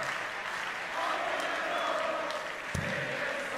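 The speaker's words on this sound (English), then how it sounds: "As soon as Phil's back in this game, the crowd know it. And they're vocal again." A darts crowd at the European Darts Championships 2012 quarter-final keeps up steady applause and a noisy roar, a dense wash of sound from a large audience lasting throughout.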